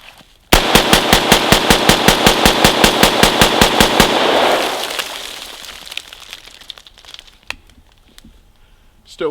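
ARAK 21 XRS rifle fired after a water torture test: a rapid, evenly spaced string of about twenty loud shots in full-auto, then a decaying rattle and scattered clicks and knocks.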